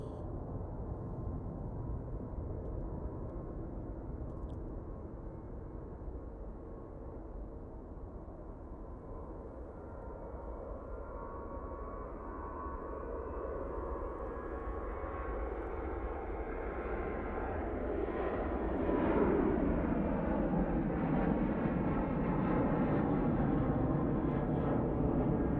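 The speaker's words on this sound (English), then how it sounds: "Right now on the roll. This is off to Brussels." A jet airliner on its takeoff roll at a snowy airport, bound for Brussels: a broad, steady engine roar that builds gradually and grows louder and fuller toward the end, heard at a distance with no talk.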